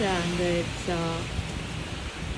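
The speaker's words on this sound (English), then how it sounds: "show you this beautiful and lovely melodious rain" Rain falls steadily past a balcony in Ottawa, a dense even hiss throughout, while a person talks briefly near the start.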